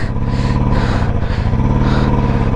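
A Royal Enfield motorcycle stuck on a high-altitude Ladakh ride with low air intake revs loudly and unevenly, its engine chugging in pulsing surges close to the listener.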